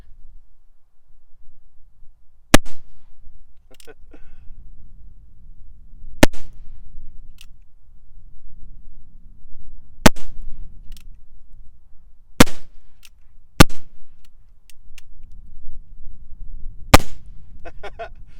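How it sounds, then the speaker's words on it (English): A cap and ball revolver fires blanks, giving six sharp, loud reports spaced a few seconds apart with quiet background in between and no talking. "let's just see how the blanks shoot"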